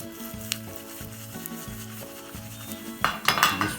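Red chilies and urad dal fry in a pan, giving a soft sizzle under a steady background hum, with scraping and stirring sounds rising near the end.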